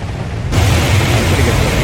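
A Jupiter rocket lifts off in the space game Mars Horizon, its launch erupting suddenly into a loud, broad roaring rush that holds steady without letting up.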